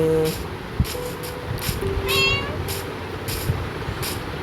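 A cat in the video game Minecraft meows several times, short rising calls fairly close, over a background of game sounds and a speaking voice.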